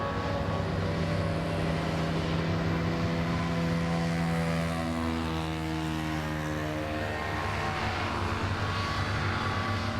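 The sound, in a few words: racing hovercraft engine running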